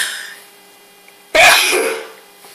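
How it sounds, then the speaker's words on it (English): A single sharp sneeze bursts out after a quiet stretch, loud and close, with a breathy tail trailing off. "It's that light making me sneeze."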